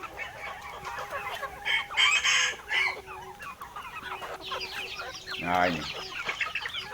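Several free-range village chickens cluck and squawk close by, one breaking into a loud crow, while someone talks over the flock.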